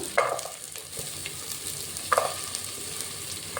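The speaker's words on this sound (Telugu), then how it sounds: "వేసుకుందాము ఒకసారి ఇప్పుడు క్యారెట్ ముక్కలు" Carrot pieces fry and get stirred in a pan for Telugu bagara rice, a quiet, even sizzle broken by two brief spatula clicks against the metal.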